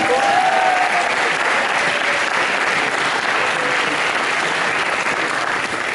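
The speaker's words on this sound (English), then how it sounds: "let's give a big round of applause to all the fathers" A large crowd applauds steadily at a university commencement ceremony, a dense wash of clapping that holds at an even level throughout with no talking.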